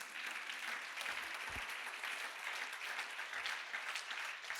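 A church congregation claps together through the whole stretch, a dense, even patter of many hands that sounds somewhat distant and fairly quiet, with no talk over it.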